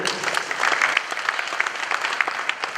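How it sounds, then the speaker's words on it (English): An audience at an art awards ceremony gives a round of applause, a close, fairly loud patter of many hands clapping steadily before fading slightly. "Once again, a round of applause for him."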